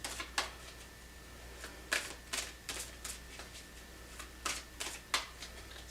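Tarot cards are shuffled close up in quick, irregular bursts of crisp riffling snaps separated by short pauses, fairly quiet overall.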